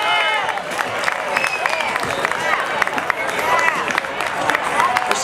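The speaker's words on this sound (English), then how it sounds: "Let's have a round of applause," Crowd at an outdoor community event with food, drink and a kids area breaks into applause and cheering, a steady continuous wash of clapping mixed with scattered voices and babble for the whole stretch.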